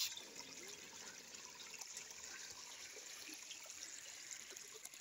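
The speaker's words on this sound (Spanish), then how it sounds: "Este ruido, el sonido del agua." Water trickles steadily into a small natural pool near the dam at Los Hornos, Michoacán, a soft, continuous, fairly faint wash of splashing with no voices.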